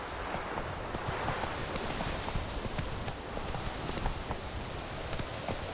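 A ridden horse's hooves clip-clop in a quick, steady rhythm against dense, hissy background noise, with no voices audible.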